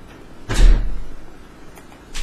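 A balcony door swings shut with a single dull thud, followed by a brief quieter knock and another bump near the end, close by in an otherwise quiet room.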